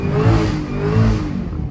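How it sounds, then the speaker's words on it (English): A Camaro ZL1 1LE engine revs hard during a drift on a rainy late night, a loud, close, sustained roar that rises and falls. "let's go ahead and get my first drift"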